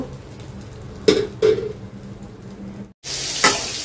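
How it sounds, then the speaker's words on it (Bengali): Onions fry in oil in a pan for a fish curry, giving a steady low sizzle broken by a couple of sharp stir-like bursts, a brief dropout, then a louder, brighter hiss. "পেঁয়াজটা হালকা ভেজে নিলাম"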